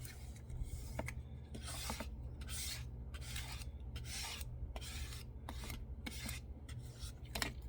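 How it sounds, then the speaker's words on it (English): A scraper rasps back and forth over glued paper pages in a series of steady, close strokes, each a dry rubbing scrape with brief pauses between, heard alone without talk. "So I'm just going to smooth that out with my scraper."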